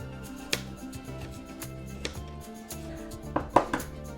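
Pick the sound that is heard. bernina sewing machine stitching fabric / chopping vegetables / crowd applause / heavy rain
chopping vegetables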